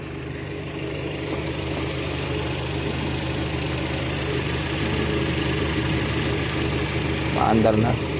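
A Kia Rio engine, previously unable to start, runs at a steady idle with a continuous mid-pitched drone and vibration throughout, fairly close, with a brief louder burst near the end.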